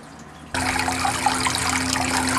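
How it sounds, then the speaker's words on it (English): Water drains through an aquaponics bell siphon from a grow bed, starting abruptly after a moment of quiet and continuing as a steady close rushing gurgle. "The suction maintains the flow of water until the bed empties and the water level drops below the notched bottom of the siphon."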